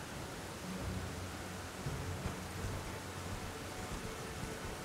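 Steady rain in the video game Elden Ring, a dense, even hiss of falling water with low rumbling underneath, continuous and fairly loud with no talk.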